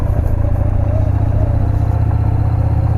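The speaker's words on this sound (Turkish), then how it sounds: "motosiklet ekibi geliyor arkadan" Loud, steady engine rumble of motorcycles riding close behind on a road by Danamandıra Nature Park in Çorlu, Turkey, a continuous low drone with rattling.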